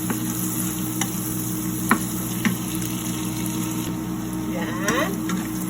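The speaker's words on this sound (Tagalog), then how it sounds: "Medyo brownin na natin ng konti pa yung bawang" Chopped garlic sizzles steadily while browning in a frying pan for homemade shrimp-paste bagoong, with occasional sharp clicks of a utensil stirring against the pan over the continuous crackle.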